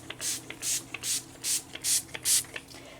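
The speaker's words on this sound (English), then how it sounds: "What I do is I take it and I spray it." A fabric stiffener spray bottle hisses onto a crocheted doily in six quick, evenly spaced bursts, each preceded by a faint click of the trigger.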